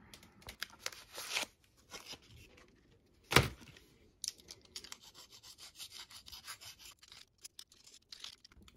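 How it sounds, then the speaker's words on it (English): A custom toy figure is sanded down to prepare it for paint, giving close, dry rubbing and scraping strokes in irregular bursts, with one louder scrape partway through and quieter intermittent rubbing after. "let's go ahead and sand him down"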